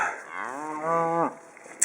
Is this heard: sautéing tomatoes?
no